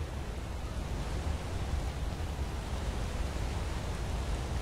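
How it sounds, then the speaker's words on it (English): Waterfall in the video game Skyrim, a steady, even rush of falling water that roars on without change and with no voices over it. "So there's like a waterfall."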